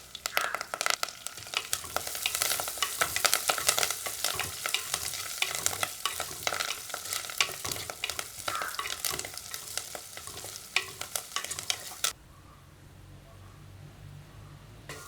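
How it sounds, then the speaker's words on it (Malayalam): Ginger, garlic and curry leaves fry in hot oil while being stirred, giving a busy crackling sizzle with scraping strokes that stops abruptly near the end, leaving a quiet low hum. "ഇഞ്ചി വെളുത്തുള്ളി നല്ലോണം മൂത്തിട്ടുണ്ട്."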